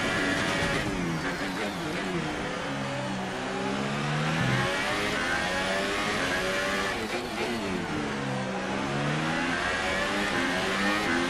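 An F1 2018 video game race car's engine revs and accelerates loudly through repeated rising and falling pitch sweeps, dropping briefly mid-run before climbing again, heard close and alone without talk.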